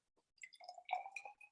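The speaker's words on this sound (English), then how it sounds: "So we have our warm water. I'm going to add this first to our coarser salt." Warm water poured onto coarse salt gives a short run of faint, bright splashes and trickling drips lasting about a second, heard alone in a quiet room.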